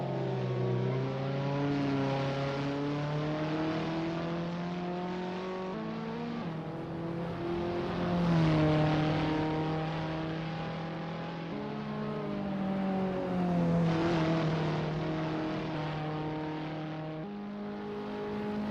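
A simulated Abarth 500 small hatchback engine in the racing game Assetto Corsa revs steadily through the gears, its buzzy drone rising and dropping with each shift, on a practice session around a Paris circuit; no talk.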